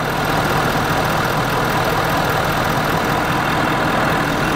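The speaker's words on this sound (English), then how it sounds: "Sounds like a diesel." A 2019 Ford F250 FX4 Lariat diesel idles steadily up close, a continuous broadband engine clatter and hum holding even for a few seconds with no voices.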